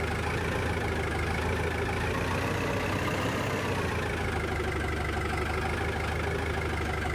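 A powerful tractor engine in Farming Simulator 25 runs in a loud, constant drone with a deep rumble, steady throughout and with no voices over it.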